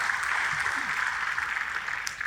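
Congregation applause at an Indonesian church service, a steady broad wash of clapping throughout, moderately loud and continuous with no talk over it.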